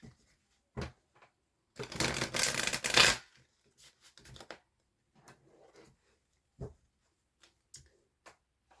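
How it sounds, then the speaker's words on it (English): A new, stiff deck of playing cards being shuffled up close: a dense riffle burst of about a second and a half, followed by scattered softer taps and flicks as the cards are squared and bridged. "Just give me a minute to shuffle"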